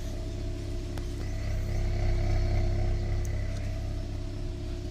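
A Toyota Corolla engine idles with a low, steady rumble, quiet and even, with a brief faint click now and then.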